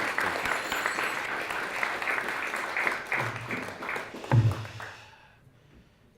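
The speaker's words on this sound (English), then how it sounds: "let's give a big round of applause for Dr." Warm audience applause welcomes a history speaker to a lecture, an even crowd clapping that holds for several seconds, then fades and dies out toward the end.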